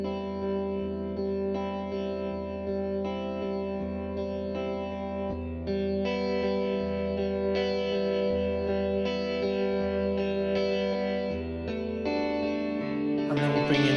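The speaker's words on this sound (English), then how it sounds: "got nice chorus reverb" Layered electric guitars ring out with a shimmering, wavering chorus and a spacious reverb tail, steady chords sustaining throughout, swelling brighter near the end.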